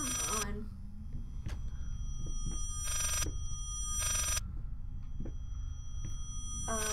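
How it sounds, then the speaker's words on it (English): Old telephone bell rings in repeated loud bursts inside the horror game Layers of Fear, sounding close amid a dim ambient hum and scattered thuds and footsteps. "Please answer the godforsaken fucking phone."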